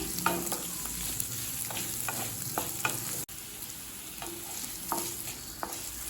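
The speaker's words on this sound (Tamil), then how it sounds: "குடமிளகாயை நல்லா வதக்கிக்கலாம்" Capsicum sautéing in a pan for a chutney, a steady close sizzle with intermittent scraping stirs throughout and one brief dropout partway through; no voices.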